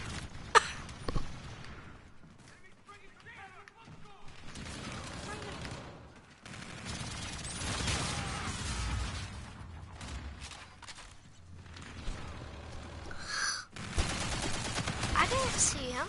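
Bursts of gunfire from a PS4 shooter video game, with impacts and rattling volleys spread through the clip. The shots come in uneven clusters with short gaps between them, and the game sound stays at a moderate level throughout.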